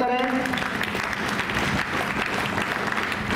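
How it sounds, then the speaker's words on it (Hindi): Applause from an audience at an NCC Day event, a dense, steady clapping that continues loud and unbroken for a few seconds, with faint voices mixed in at the start. "एक बार पुनः जोरदार तालियों से स्वागत करें"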